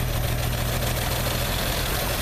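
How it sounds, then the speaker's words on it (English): A 1957 GMC 450 truck with its original 302 engine idles with a vacuum leak, a close, loud, steady low rumble with a faint hiss over it and no talking. "And I hear a vacuum leak."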